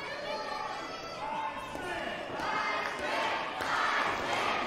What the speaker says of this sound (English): Crowd is rallying to the support of the Iceman